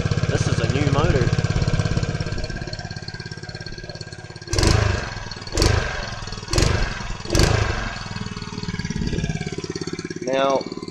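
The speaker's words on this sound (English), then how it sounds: "Listen how sweet this is. This is a new motor." A new 4 hp Venom motor idles steadily on a trike build, a constant low mechanical hum with several short louder bursts as the throttle is blipped in the middle, plus brief faint squeaks near the start and end.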